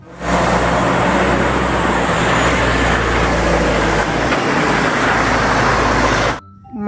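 A tow truck sound effect: a loud, steady broadband road-vehicle rumble with a low engine drone, holding for about six seconds before cutting off abruptly.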